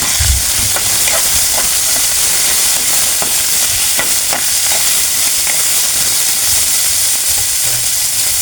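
Chicken breast sautéing in a hot pan for a cauliflower dish, giving a loud, continuous hiss and sizzle with occasional light stirring clicks, close up and without talk.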